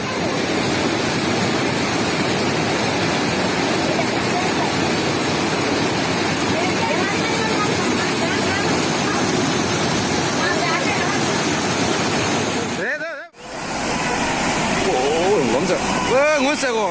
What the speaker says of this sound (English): Check out this devastating flood in the Indian state of Kerala.